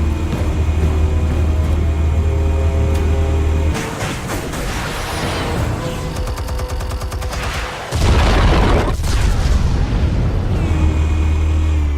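An explosion in Batman: The Telltale Series bursts loud and sustained over a rumbling game soundtrack, with crackling debris and a second heavy blast near the end.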